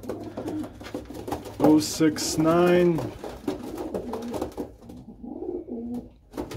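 Breeding pigeons coo in a low, warbling burst close by, with handling noises and someone talking over and around the calls.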